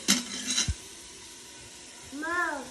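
A short burst of scraping and light sizzling as khichdi for a toddler is stirred in a pan, then quiet, with a voice speaking briefly near the end.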